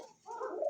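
A yellow magpie pigeon gives a short, soft coo, a single brief low call rising slightly, close and alone.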